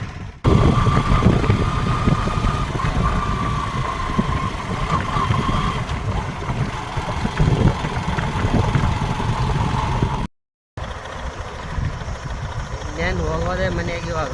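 A motorbike engine runs steadily while riding along slowly on the way home, its loud continuous drone broken by a brief dropout near the end, with a voice talking over it.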